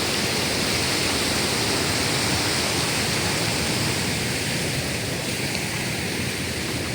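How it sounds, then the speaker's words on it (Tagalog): Strong floodwater current rushing during a typhoon in Lucena City, powerful enough to break through a wall. It makes a dense, steady roar that stays loud and unbroken throughout, with no voices. "Sobrang lakas nung agos."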